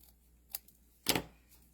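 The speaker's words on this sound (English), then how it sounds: "I'm just going to take a pair of scissors" A pair of scissors trims thick card stock for a handmade card base, giving two short, crisp snips with a quiet pause between them, the second louder and longer.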